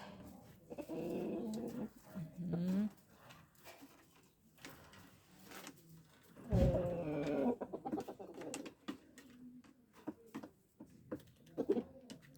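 A rooster clucks and calls to hens in bursts among other farmyard birds, with cooing and scattered pecking noises, fairly close and moderately loud.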